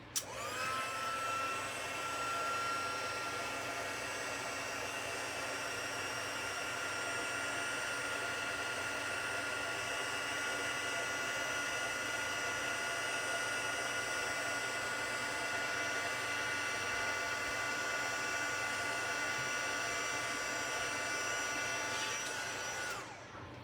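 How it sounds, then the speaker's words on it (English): A handheld heat tool for embossing in stamping crafts runs continuously for over twenty seconds with a steady, close whirring fan hiss, starting and stopping abruptly with no voices. "Now let me grab my heat tool"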